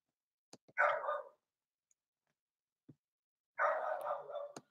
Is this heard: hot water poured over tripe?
no